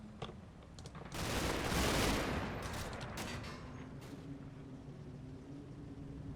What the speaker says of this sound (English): we've got some small arms fire going off